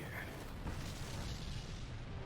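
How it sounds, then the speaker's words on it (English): A quiet, broad rumbling blast from an explosion in the video game Trump vs. The Illuminati, with a faint swell partway through and no voices. "Nice explosion."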